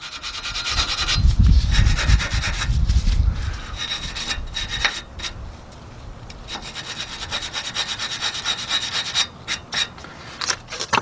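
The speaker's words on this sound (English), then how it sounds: "Get our wire brush. Clean that all up." A wire brush scrubs a rear brake caliper on a 2003 Ford Explorer 4.0, giving a loud, rough, continuous scratching that is heaviest early on and then carries on in shorter strokes with brief pauses, with no talking.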